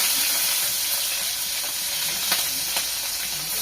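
Green chillies and onions frying lightly in hot oil for egg biryani, heard as a dense, even hiss with a couple of faint clicks.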